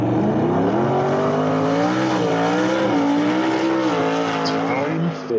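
A race car engine revs in a steady sustained whine, rising and falling in pitch over several seconds, loud and close, with a faint squeal near the end.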